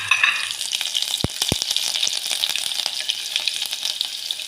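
Green chillies dropped into hot oil with asafoetida, crackling and spitting loudly, with two sharp thumps early on and a busy fizzing sizzle after.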